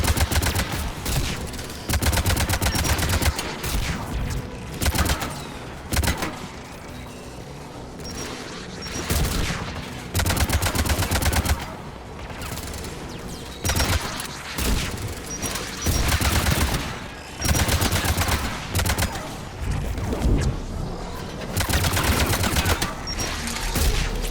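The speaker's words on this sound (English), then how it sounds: "There, the anti-aircraft guns." Anti-aircraft guns in the video game Mass Effect 3 firing in long rapid bursts of heavy booming shots, loud and close, separated by short pauses and repeated many times.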